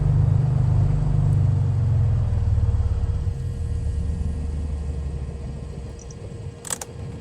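Mooney Ovation piston engine in Microsoft Flight Simulator 2020 shutting down at idle cutoff: a strong low drone runs for about three seconds, then winds down into fainter rumble, with a brief click near the end.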